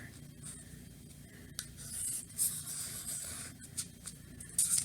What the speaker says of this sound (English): I'm going to trace 2 big circles on the red paper.